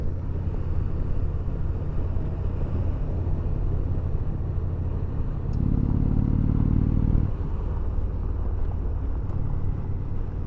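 An Indian Roadmaster Dark Horse motorcycle cruising at highway speed, a steady low engine drone mixed with wind rush, with a brief rise in engine pitch partway through before settling back.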